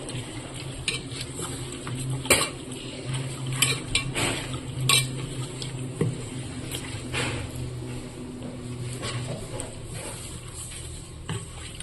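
Ginger garlic paste and green chilli paste being mixed with a spoon in a metal vessel for chicken dum biryani, giving irregular scraping clinks and taps over a faint steady background hum.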